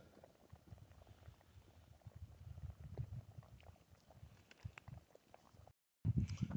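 A mud pot at Mickey Hot Springs bubbles and plops quietly, with a steady low gurgling of thick, irregular pops, faint and close, before a brief dropout and a louder burst.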